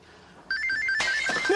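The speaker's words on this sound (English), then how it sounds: "we're used to the phone ringing all the time" A telephone bell rings in steady repeated trills at moderate loudness, growing busier toward the end as other sounds join in.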